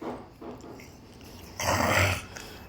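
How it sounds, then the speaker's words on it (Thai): A pet dog gives a brief, throaty growl up close, one rough burst of under a second between quieter moments of stirring and light rustling. "สุนัขของผม ที่เลี้ยงไว้ มันก่อกวนไม่หยุดเลย"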